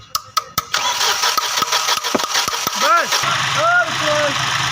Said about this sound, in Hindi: ये हमारी गाड़ी हो चुकी है स्टार्ट। साउंड सुन सकते हैं आप